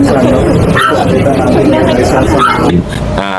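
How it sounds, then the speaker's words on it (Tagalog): A dog barks and yips amid a busy outdoor political campaign gathering, with loud crowd chatter and voices running over the short bursts. "Aso lang."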